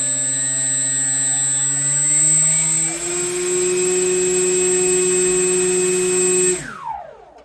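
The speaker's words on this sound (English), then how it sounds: "if we turn the motor on" The electric motor of a Depron foam FliteTest model airplane spins up into a steady, close whine that climbs slightly in pitch, holds for several seconds, then cuts off and winds down abruptly near the end.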